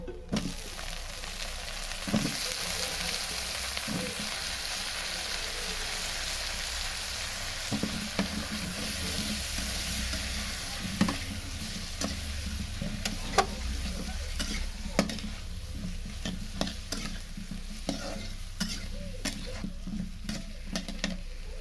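Bananas and prawns sizzle and fry steadily in a pan, with continuous loud crackling broken by occasional stirring scrapes and clinks throughout.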